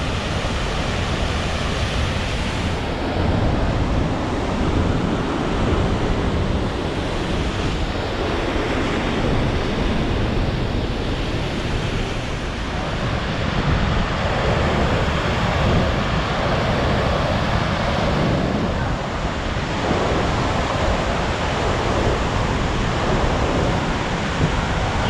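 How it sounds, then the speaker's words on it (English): A continuous, dense rushing roar of a large waterfall on Iceland's Golden Circle, steady and loud throughout, with no voices. "Waterfall."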